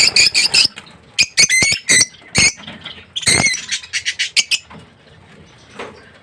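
Young pigeons taking flight, their wings flapping in a string of sharp, close bursts that come in quick clusters and then thin out to a few fainter flutters, with no talking.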